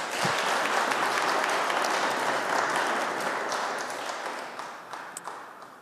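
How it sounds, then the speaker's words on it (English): Audience applause at the 8th Tokyo-London Financial Seminar, a dense, steady roar of many hands clapping that holds loud for several seconds and then gradually fades toward the end. "Please do give them all a warm round of applause."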